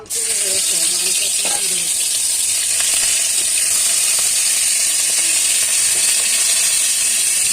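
A chicken leg piece drops into hot oil and fries with a loud, continuous sizzle that starts abruptly and holds steady, with faint clicks and scrapes.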